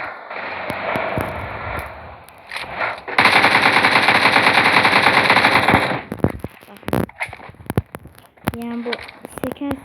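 AKM assault rifle fire in a video game, rapid bursts of loud automatic shots, with one long sustained stretch in the middle and shorter clipped bursts around it.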